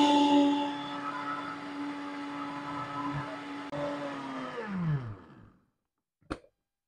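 Electric grinder blending strawberry ice cream mix with milk: a loud steady motor whine holds for about five seconds, then winds down in pitch and stops, followed by a short clunk after silence.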